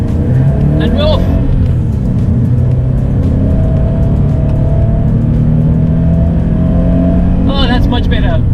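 A car pulls out onto a track-day handling circuit, its engine droning loud and steady close to the microphone with a rising tone, while a person talks briefly at the start and end.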